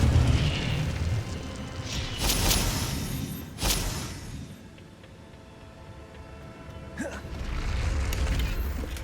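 Fiery spell blasts from Hogwarts Legacy gameplay on Xbox Series S: two or three loud broadband bursts in the first few seconds, then quieter rumbling game ambience with a sharp later whoosh.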